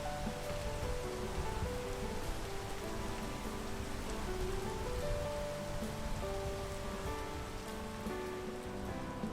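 Steady rain in the video game Peak falls as a dense, even hiss across the whole stretch, with faint pattering and occasional tonal game sounds underneath and no talk.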